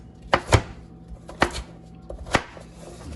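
Knife chopping vegetables on a cutting board for chicken and garden vegetable soup, a few crisp separate strikes (two close together, then two more spaced apart) with quiet pauses between.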